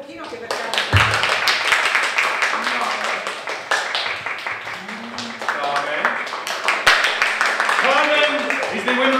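An audience at an evening contest show at Istantaneo 2014, The School of Night, bursts into sustained, dense applause that swells toward the end, with a presenter's voice talking over the clapping.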